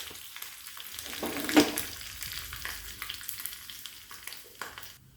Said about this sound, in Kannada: ಸ್ವಲ್ಪ ಜೀರಿಗೆ ಹಾಕ್ತಾಯಿದ್ದೀನಿ ಆಮೇಲೆ ಒಂದು ಸ್ವಲ್ಪ ಕರಿಬೇವು ಒಂದು ಒಣಮೆಣಸು